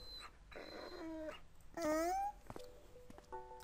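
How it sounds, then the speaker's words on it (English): A frightened dog in the video game Time Hollow whimpers and yips in a string of high, wavering cries, one louder whine standing out near the middle, with no talk over it. "The dog fits the description, huh? Yep. Poor thing. He's scared."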